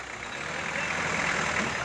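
Truck engine idles with a steady low rumble and broad mechanical noise, continuous and fairly close, while grass is chopped on a farm.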